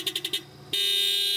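A Mazda NC Roadster car horn gives four short, quick honks, then pauses and lets out one long sustained blast with a buzzy, tinny tone, heard up close with no talking.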